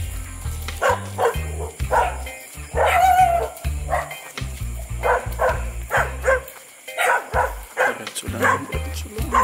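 A dog barks repeatedly in short, loud bursts close by during a spider hunt outdoors in Naic, Cavite, with people talking in between.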